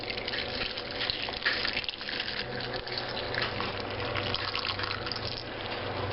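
Pineapple juice pours steadily into a crock pot, a continuous splashing gush lasting several seconds with faint background noise.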